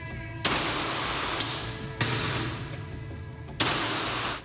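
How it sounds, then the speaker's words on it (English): Gunfire during a police shootout, four sharp reports spaced about a second apart and echoing over a steady background roar, moderately distant, with no talking. "Hundreds of rounds exchanged for nearly 3 tense hours"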